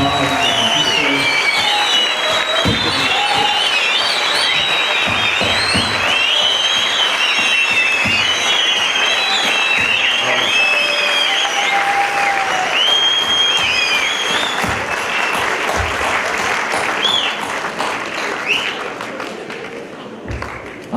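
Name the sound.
audience applause for the teachers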